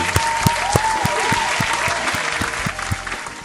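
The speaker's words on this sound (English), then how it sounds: "Round of applause to you." An applause sound effect, a loud, continuous wash of crowd clapping with sharp rhythmic beats and a tone running beneath it, slowly easing off toward the end.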